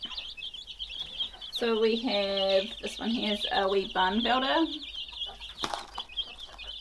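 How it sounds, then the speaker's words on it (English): Chicks and laying hens cluck and peep in a backyard brooder under heat lamps, steady chirping throughout while someone talks over them nearby. "They are some chicks from our hens."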